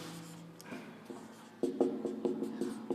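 A pen or marker scratches out capital names such as Tbilisi onto a world map of Asia in short, close strokes, with sharper taps and scrapes growing louder partway through; no one talks.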